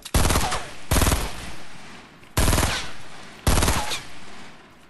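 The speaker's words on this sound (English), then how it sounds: "They're shooting at me." Gunfire in the Fortnite video game: four loud, close bursts of rapid automatic fire, each lasting under a second, spaced by short pauses, with no voice over them.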